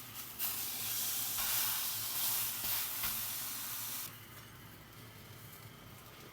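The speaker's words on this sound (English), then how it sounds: "fry it for 2 to 3 minutes on each side" Lamb burger patties frying in a hot pan, a strong steady hiss and sizzle that drops to a quieter crackle partway through.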